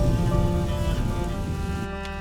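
Steady rain falls in the video game A Plague Tale: Innocence as a continuous broadband wash over a low rumble, with a faint thunder-like undertone. The rain thins slightly near the end.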